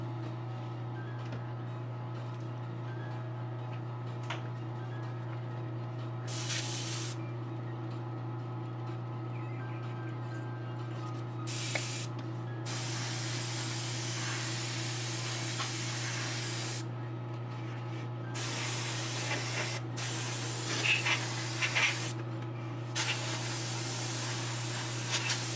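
Lacquer paint sprayed onto an acrylic figure: several bursts of loud, steady airbrush-style hissing, some short and some lasting several seconds, over a constant low mechanical hum.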